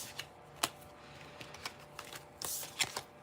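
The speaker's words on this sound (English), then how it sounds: "Give us one full shuffle for digging for dirt, okay?" Tarot cards are shuffled in soft, quiet riffles and flicks with scattered light papery taps and one brief burst of fuller shuffling near the end.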